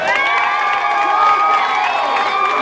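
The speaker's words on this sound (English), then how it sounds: "A big round of applause you gave him." A crowd at a wrestling event cheers and whoops loudly, with high shouting voices and some applause merging into a continuous, lively roar.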